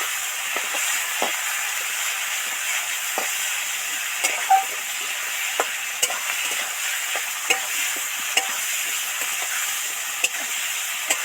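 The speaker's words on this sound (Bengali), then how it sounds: "দিয়ে ভালো করে নেড়ে চেড়ে মিশিয়ে দেবো" Ginger-garlic paste stirred into potatoes frying in a pan, a steady hissing sizzle punctuated by regular light scrapes and taps of the spoon against the pan, close and unvoiced.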